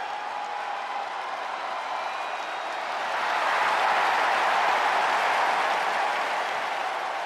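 Steady roar of an arena crowd in the WWE 2K24 wrestling game ahead of a SmackDown tag team match, a broad wash of cheering that swells louder midway and holds, with no talk over it.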